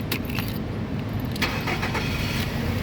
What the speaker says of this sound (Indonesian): nah sekarang kita coba nyalakan mobil.